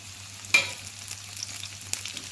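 Mustard seeds, onion, garlic and curry leaves fry in hot oil for chikkudukaya fry, a quiet steady sizzle with a sharp crackle early on and another brief pop near the end.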